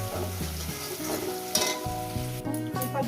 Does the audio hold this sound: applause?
no